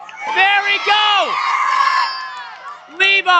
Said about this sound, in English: You can hear the crowd going insane behind us.